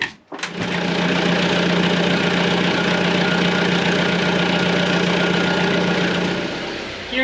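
A boat engine cranks and catches, then settles into a loud, steady, close idle with a constant rattling hum that runs on without a break, with no speech.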